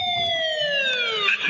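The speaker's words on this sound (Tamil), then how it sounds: "ஆம்புலன்ஸ் வருது" An ambulance siren wails close and loud on a rainy hill road near Munnar, its steady tone sliding slowly downward over a low road rumble as it approaches.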